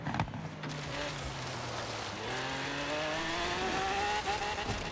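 A Lamborghini in the Forza Horizon 3 video game, roughed up from offroad driving, revs loudly with shifting engine pitch and brief tire squeal, steady and close throughout.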